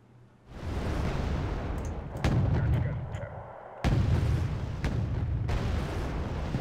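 Naval guns fire in a warship battle game, with heavy booms landing at about two, four and five seconds over a dense rumbling backdrop of game combat.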